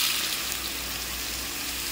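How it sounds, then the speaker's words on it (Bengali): Soybean chunks go into hot oil in a home kitchen, giving a steady, close broadband sizzle of frying that holds evenly throughout with no speech. "তেলটা গরম হয়ে গেছে, সয়াবিনটা তেলে দিয়ে নেবো"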